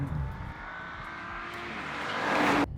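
An Audi RS5 slides around a corner, its engine holding a steady note that rises and builds in intensity before cutting off abruptly, heard from inside the car without talking.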